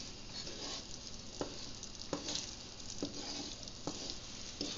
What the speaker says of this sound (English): Okay, now we're into a hard boil.